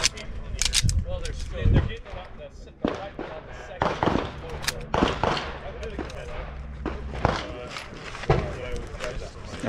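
Sharp gunshots crack out one after another at irregular intervals, loud and close, with people talking between the shots.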